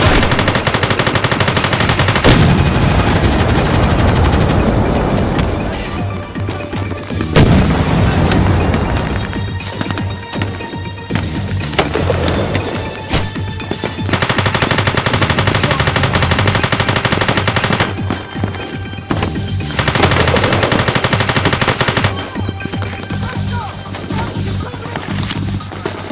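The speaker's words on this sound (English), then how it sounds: "Minigun." A minigun in the video game Sharped Edge fires in long, loud, sustained bursts of rapid gunfire, broken by a few brief pauses, with no talking.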